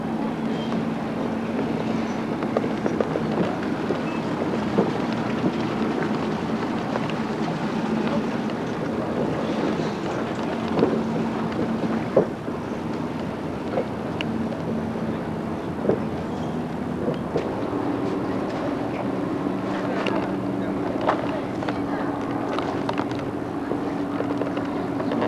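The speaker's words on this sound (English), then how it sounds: "We're going on a boat ride" A boat ride on open water: a steady, continuous engine drone with wind and water rush throughout, heard alone at fairly high level with no talking.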